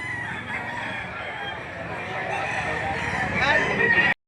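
Roosters crow in a busy morning poultry sale at a livestock auction market in Lipa City, Batangas, with clucking fowl and crowd chatter all around, one loud crow rising near the end.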